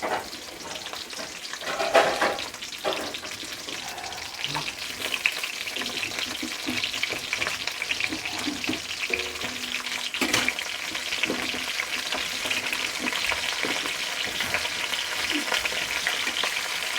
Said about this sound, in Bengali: এবার আমি পটলগুলো আস্তে আস্তে দিয়ে দিচ্ছি। পটলগুলো একটু লাল লাল করে ভাজতে হবে।